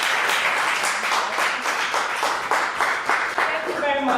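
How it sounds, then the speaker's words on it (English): Steady applause from a crowd, loud and sustained throughout, with a voice briefly heard near the end. "Please can we give another sounding round of applause?"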